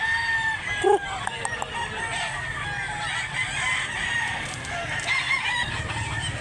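Several roosters crow repeatedly at a rural gamefowl farm where a bull stag is for sale, one crow loud and close, others overlapping farther off, with clucking and steady outdoor noise underneath.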